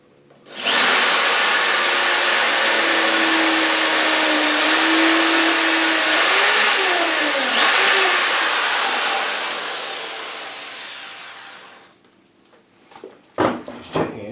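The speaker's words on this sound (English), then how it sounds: "we'll re-drill one of these over this side" A power drill re-drills a screw hole on a bonsai staging build. It makes one loud, sustained whine lasting about eleven seconds, with pitch shifts midway, then cuts off and is followed by a few handling knocks.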